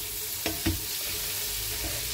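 Red prawns sizzle in olive oil in a kadai, a steady soft frying hiss broken by a couple of brief clinks as they are stirred, with no speech.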